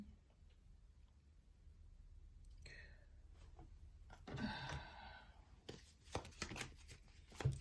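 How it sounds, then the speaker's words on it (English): A deck of tarot cards is shuffled by hand: quiet rustling gives way to a stronger burst of riffling, then a run of quick, close, crisp card flicks and taps, with no talking. "let me shuffle a card"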